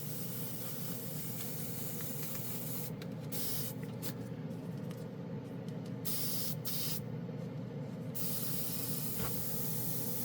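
A Dspiae no-wash airbrush hisses as it sprays paint, a steady close airy rush with brief breaks where the flow cuts out and returns.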